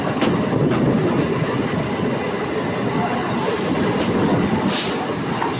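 An EMU local train pulling into Uttarpara station, a loud, continuous rumble with rhythmic clickety-clack of wheels and a brief hiss toward the end, heard from on board.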